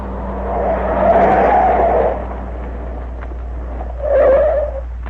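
An old-time radio drama sound effect of a car slowing and pulling up, with two swelling engine and tire surges over a low motor rumble.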